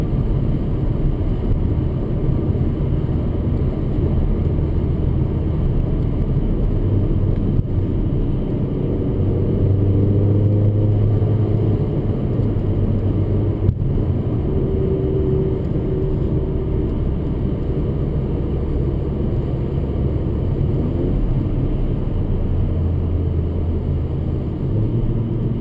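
A Mercedes GLA 45 AMG cruises at about 40 mph in third gear on an autumn drive, its engine a steady, low droning rumble with road noise, constant and close for the whole stretch.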